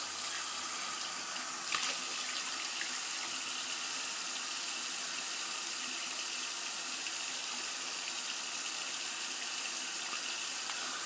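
Tap water runs steadily into a sink to rinse off after a wet shave. The soft, even hiss of flowing water continues throughout at low volume, with no voices.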